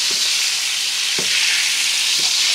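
Sirloin steak fries in a pan with a loud, steady hiss and sizzle throughout, broken only by a few soft clinks or stirring bumps. No voices can be heard.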